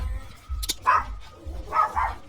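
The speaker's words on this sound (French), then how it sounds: "je suis désolée pour les chiens qui aboient, les chiens qui pleurent" Several dogs bark and whine in short bursts, fairly close, with yelps and whimpers between the barks over a low background rumble; no one speaks.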